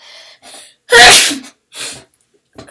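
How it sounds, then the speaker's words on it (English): A single loud, close sneeze bursts out with a sharp explosive onset, set between faint quieter sounds in a Minecraft gaming session. "Sorry for the sneeze."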